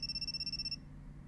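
Phone ringtone for an incoming call in the video game You and Me and Her, a faint high electronic trill lasting under a second over a low pulsing background.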